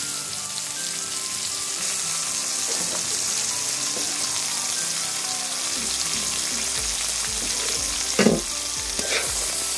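Potatoes fried in a pan with turmeric, chili powder, salt and cumin powder, giving a loud, steady sizzle with stirring scrapes and a few louder clatters near the end, up close and without speech.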